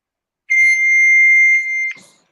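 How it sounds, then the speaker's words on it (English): Fax machine answering a phone call: one steady, loud high-pitched electronic tone lasting about one and a half seconds, ending with a click, heard alone with no talking. "That's a fax machine."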